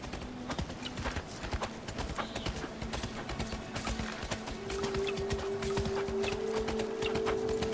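Horse hooves clip-clop in the video game Fable: The Journey as the horse-drawn cart arrives home at a barn, a steady close rhythmic clatter with a faint low tone rising in the second half.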